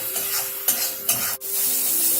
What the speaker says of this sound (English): Keep the flame on high because we want the masala to be fried very well.